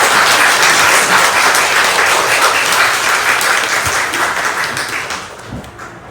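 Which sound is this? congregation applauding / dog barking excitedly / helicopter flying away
congregation applauding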